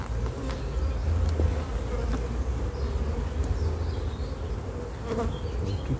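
A honeybee colony housed in a nucleus hive hums with a dense, continuous buzz, close and steady throughout, with no talking.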